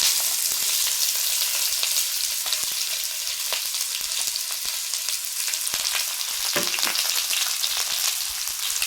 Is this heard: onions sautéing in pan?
yes